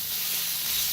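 Egg with coriander roasting in a pan gives a steady, close sizzle with a soft hiss throughout, alone without any voices.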